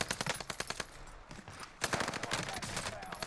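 Rapid automatic gunfire from Call of Duty Warzone on Rebirth Island, played as quick bursts of close shots with a short lull in the middle, and some talking in the background.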